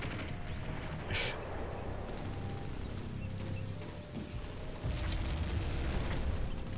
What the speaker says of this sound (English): He just threw a fucking grenade at me.